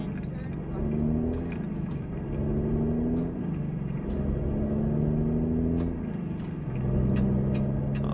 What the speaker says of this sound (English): Oh, this truck, I could get used to this. It's a good sound.